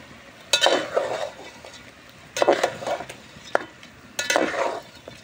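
Chicken curry with turmeric and salt is stirred in a pan in three slow scraping strokes of a spoon, with soft sizzling between them and a sharp metal tap in the middle, close up and with no voice.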